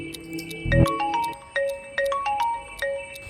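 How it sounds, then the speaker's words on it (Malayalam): A mobile phone ringtone in a Malayalam short film plays as a looping pattern of bright chiming tones that repeat steadily and keep going without a break, with no talk. "ബിജോണ്ണ ഞാനേ ഈ റിംഗ് ടോൺ ഒന്ന് മാറ്റിയിരുന്നേ ഫോണിന്റെ"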